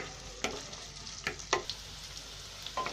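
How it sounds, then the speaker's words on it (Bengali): Onions with garlic, green chillies and dried red chillies browning in a pan for a coriander-leaf bharta, a soft continuous sizzle broken by several crisp spatula scrapes and clinks. "এই যে আমি পেঁয়াজগুলো ভেজে নিচ্ছি"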